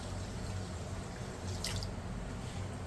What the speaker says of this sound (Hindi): और थोड़ा सा हम इसमें डालेंगे पानी